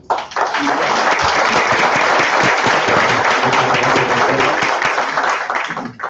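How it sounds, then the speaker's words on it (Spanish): An audience at a medical talk on prostate cancer breaks into loud, steady applause that holds at full strength for about six seconds before cutting off. "les agradecería si le dan un fuerte aplauso al doctor"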